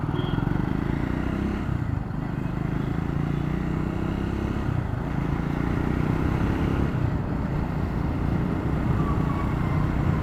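Triumph Scrambler 400X motorcycle on the move, a steady loud engine drone with road and wind rumble filling the whole stretch, no speech.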